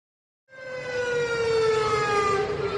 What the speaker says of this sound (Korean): 뿌연 연기와 함께 사이렌 소리가 울려 퍼집니다.